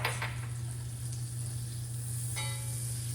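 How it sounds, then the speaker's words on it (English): Butter melting in a pan after searing salmon gives a steady, close hiss and sizzle that runs unbroken throughout, with no talking over it. "some butter that I'm gonna melt"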